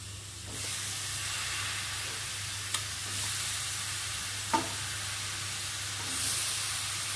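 Cleaned prawns go into a pan of masala for a Tamil prawn curry, and a loud hissing sizzle bursts up and then holds steady. A few sharp clinks of a utensil sound midway.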